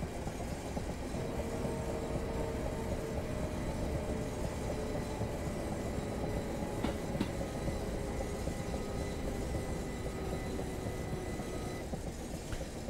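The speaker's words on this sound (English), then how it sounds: "You just drive across the crossing just when the train's coming." A Class 375 electric train on the Chatham Main and Medway Valley line in Train Simulator 2019 rumbles past loudly and continuously, its steady drone carrying faint tonal whines throughout.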